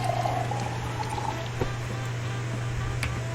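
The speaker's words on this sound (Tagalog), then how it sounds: "Tubig-tubig muna kayo dyan." Water pours steadily in a Korean street food stall simulator game, a soft continuous trickling over a low steady hum, with a few faint clicks, heard without talk.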